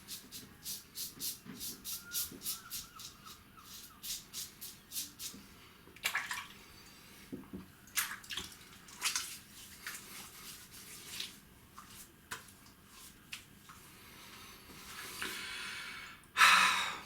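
Water runs steadily for a face wash after a shave, with splashes and breathy snorts over the flow and a louder splash near the end.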